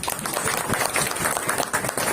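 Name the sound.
audience clapping at cricket event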